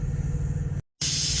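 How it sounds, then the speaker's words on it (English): Farberware pressure cooker venting steam while cooking spaghetti: a steady loud hiss with low rumble, cut by a brief silent gap, then bursting back louder and brighter. "So we're letting the pressure off. That's the sound you're hearing."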